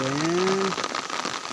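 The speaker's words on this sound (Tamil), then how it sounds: "இந்த 3 பக்கம் மழை பெய்யுது." Steady rain falls in a constant hiss of drops on surfaces, close and fairly loud, with a brief tonal voice-like sound at the start.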